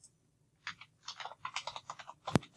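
A computer keyboard typed in a quick, uneven run of close, crisp key clicks after a brief quiet start, ending with one sharper, louder keystroke.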